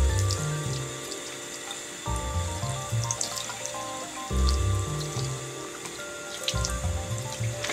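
Warm tap water runs steadily into a kitchen sink as a plate is rinsed, with splashing and dripping that changes as the dish is moved under the stream.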